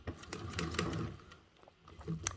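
A vintage Singer straight-stitch sewing machine stitches along bias tape, giving a quiet, uneven patter of rapid needle clicks with short pauses, close by but faint.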